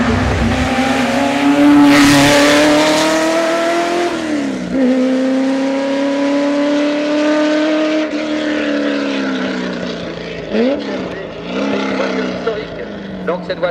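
A 1971 Swiss champion race car, driven by a Geneva driver, roars loudly up the Marchairuz hill climb with rising and falling engine revs and sharp gear changes, close and continuous.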